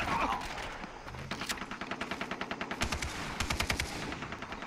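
Gunfire in the video game Far Cry 3, a quick run of sharp, evenly spaced shots in rapid bursts with a few louder single blasts, some faint voice underneath.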